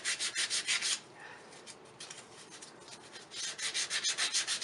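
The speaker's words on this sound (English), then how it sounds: "we're just going with the sanding with the grain" A wooden ring dish is sanded along the grain in quick repeated back-and-forth rubbing strokes, loud and close. A softer, steadier stretch falls in the middle before the rhythmic strokes resume.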